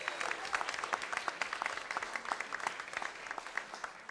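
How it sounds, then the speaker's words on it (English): Congregation at a church service applauding together, a fairly faint but continuous patter of many hands clapping with distinct individual claps standing out, sustained evenly throughout. "let's just give them a round of applause."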